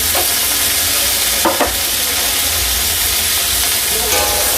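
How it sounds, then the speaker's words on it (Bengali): Bitter gourd stir-fried with salt and turmeric in a pan gives a steady, loud sizzle and hiss throughout, with a few scraping stirs of the spatula, close up and without talk. "এবার এটাকে ভালো করে নেড়ে ছেড়ে ভেজে নেব"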